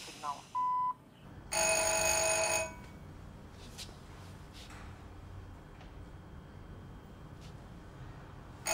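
An answering machine's voicemail tone sounds as a short single beep, followed by a longer, brighter electronic signal tone lasting about a second, then quiet room hiss.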